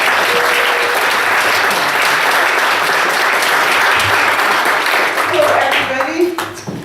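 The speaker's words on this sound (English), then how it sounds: "Let's give her a round of applause." Audience applause greets a guest speaker being introduced at a talk, a dense, steady wash of clapping that holds for several seconds before thinning out near the end.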